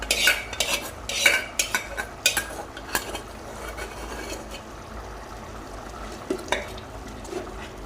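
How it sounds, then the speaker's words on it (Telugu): Gongura leaves are stirred into cooked chicken curry in a pot; a spoon clinks and scrapes against the metal in quick irregular strokes, busier at first and then settling into softer, sparser stirring. "గోంగూర వేస్తున్నాను, వేసి కలుపుతున్నాను."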